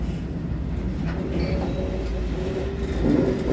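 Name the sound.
southbound loaded coal train at Hobson Yard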